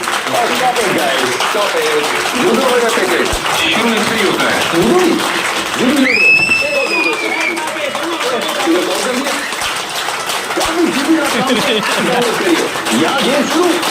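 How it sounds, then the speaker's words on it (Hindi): Audience clapping for a family at a celebration function in Makhdumpur, a continuous wash of applause. Someone speaks loudly over it the whole way through. "जोरदार तालियां इस परिवार के लिए, जोरदार तालियां।"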